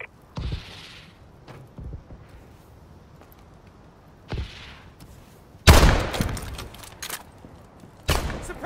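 Call of Duty: Advanced Warfare gunfire with scattered single shots early on, then a loud close burst around the middle and another sharp burst near the end, separated by quieter game ambience.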